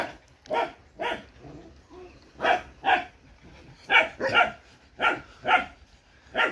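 A Malinois puppy and larger dogs bark in a series of sharp, loud barks, roughly ten in irregular bursts with short gaps and occasional yips between them.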